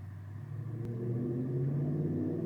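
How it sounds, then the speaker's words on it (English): A Ford Mustang engine rumbles and revs, its deep roar swelling steadily as the car pulls away, heard alone with no talk. "I'm waiting for my neighbor to leave because he's revving his Mustang."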